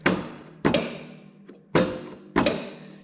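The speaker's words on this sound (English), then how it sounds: "This has a electric PTO, so I don't know. You can hear that click." Electric PTO clutch on a Toro TimeCutter zero-turn mower engaging, four sharp metallic clacks at uneven intervals with a fainter tick between two of them, each ringing briefly.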